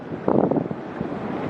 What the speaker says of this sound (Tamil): மட்டக்களப்பில் இன்று காலை பலத்த காற்றுடன் கூடிய மழை பெய்தது.